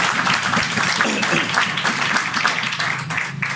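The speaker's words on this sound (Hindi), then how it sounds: "खुदा के जलाल के लिए ताली बजाए" A church congregation claps together during a sermon, a steady, fairly loud wash of applause filling the whole stretch without pause.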